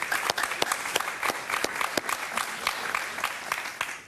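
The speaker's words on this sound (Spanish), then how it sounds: "Un aplauso para Mariel" Scattered applause from a small group on an interview show after a guest, a Venezuelan political scientist, is congratulated; distinct individual claps ring out irregularly, fairly sparse and close.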